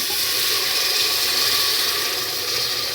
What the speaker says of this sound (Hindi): अब देखिए ग्रेवी के हिसाब से पानी डाल रही हूँ मैं इसके अंदर।